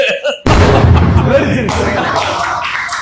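A bomb explosion in a Tamil film scene bursts in suddenly with a loud broadband boom after a brief quiet moment, and its rumble lingers while voices speak over it.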